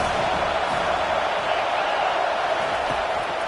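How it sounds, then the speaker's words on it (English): Stadium crowd in the video game College Football 25 roars continuously at a steady, loud level, with no distinct individual cheers standing out. "Decibels rising as the crowd gets behind this defense on third down."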